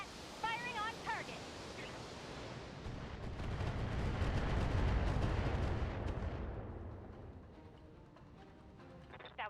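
Long-range missiles fire in a video game, building into a roaring, booming wash that swells over several seconds and then fades. Synthetic beeping tones and other game sounds appear around it, with no clear talk.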